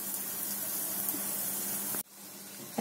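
Onions sautéing with a pinch of salt in a pan for pirandai gravy give a steady, close hiss that cuts off abruptly near the end, with no voices.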